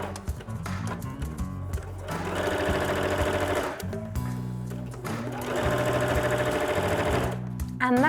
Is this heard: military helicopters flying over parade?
no